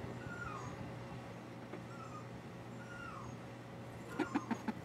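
Penned dogs whimper and whine in faint, drawn-out cries over a steady outdoor hum, ending in a quick series of louder yips.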